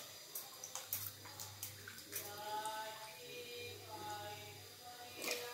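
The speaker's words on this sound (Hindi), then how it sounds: "ज़्यादा पानी लेके इसको धो लीजिए अच्छे से" Gentle splashing and sloshing of water as elephant foot yam is rinsed by hand, with soft irregular clinks and swishes, close and fairly quiet.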